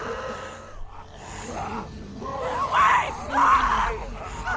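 A girl screaming in The Walking Dead game, two strained, wailing cries in the latter half, fairly loud over a muffled background with some talking.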